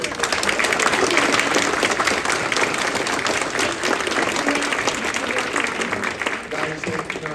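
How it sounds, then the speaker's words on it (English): Sustained applause from a horror convention panel audience, dense and steady clapping filling the room at a near, even level for several seconds with crowd noise mixed in. "A huge round of applause."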